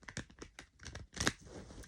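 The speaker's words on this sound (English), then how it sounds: "I've not finished shuffling yet though" Tarot cards being shuffled by hand give off soft, quick flicks and papery crinkles in a short uneven burst, close and faint.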